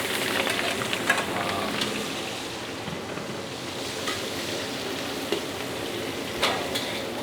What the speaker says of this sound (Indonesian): semua rempah-rempah ini kita tumpuk jadi satu, kita tumis sampai matang